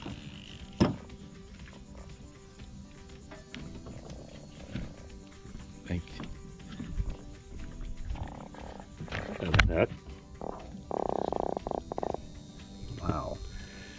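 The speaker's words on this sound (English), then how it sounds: "let's get the croaking sound." A croaker fish caught on a fishing trip at St. Simons Island croaks as its belly is rubbed, giving a short, loud buzzing croak near the end amid boat noise and people talking.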